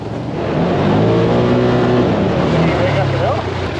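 A Can-Am Commander XTP side-by-side drives on a snowy hill, its engine a steady loud drone with rising and falling pitch that fills the whole stretch, with people talking over it.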